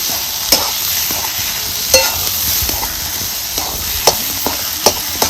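Mutton masala fries in a pan with a steady sizzle, and a spoon scrapes and taps against the pan at irregular moments, close and fairly loud, with no speech.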